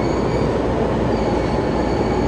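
A Rinkai Line commuter train runs between Osaki and Kokusai-tenjijo in Tokyo, heard from inside as a loud, steady, continuous rumble of wheels and car noise with no voices.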